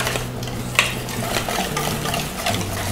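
Buttermilk salad dressing whisked together in a bowl for a grilled steak salad, a steady close stirring and clinking with one sharper knock of the whisk against the side.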